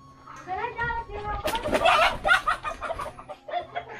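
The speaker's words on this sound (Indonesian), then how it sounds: "Banyak ayam juga. Tuh, ayam di situ mau tidur mungkin." Chickens cluck and chirp in a village backyard in rural Indonesia, a series of close, busy calls mixed with background voices.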